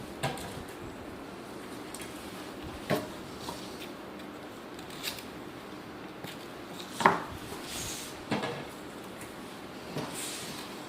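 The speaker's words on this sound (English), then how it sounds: "I like to just cut them in half, cut them in quarters, so they don't fall through your barbecue grill" A knife cuts a red pepper into quarters on a board while preparing a seafood barbecue platter: a handful of sparse, crisp knocks and clicks spread out over several seconds against a quiet kitchen background.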